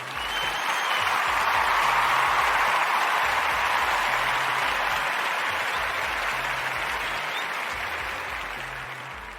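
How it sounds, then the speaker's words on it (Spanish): A crowd claps steadily for about nine seconds, dense and even, then eases off slightly near the end. "así que fuerte aplauso para ustedes."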